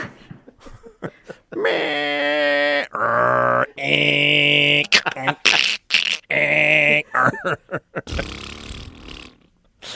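A person vocally imitates the screeching, warbling tones of a dial-up modem, a series of loud sustained buzzing and squealing bursts separated by short pauses, ending in a breathy hiss.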